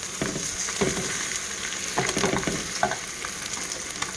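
Wagyu steak sears in a skillet just after being flipped, giving a steady close sizzle with a few sharp scrapes and taps from the turner against the pan.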